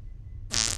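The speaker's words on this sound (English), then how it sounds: "Fart." A short fart sound effect from the online game Goose Goose Duck, a single loud, buzzy blast lasting under half a second, preceded by a quiet moment.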